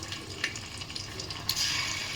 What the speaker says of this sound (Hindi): इसको फिर मैं ना इसमें चिकन डाल दूँगी फ्राई करने के लिए सारा